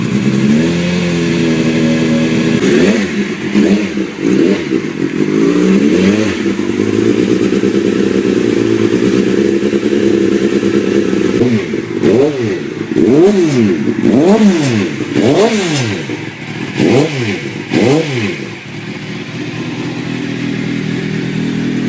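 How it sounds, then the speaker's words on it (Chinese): A Suzuki GSX-R750 sport motorcycle engine idles with a rough, loud mid-pitched burble, then is blipped through a rapid series of sharp revs that rise and fall repeatedly before settling back to idle, with no talking. "我们来听一下发动机声浪。"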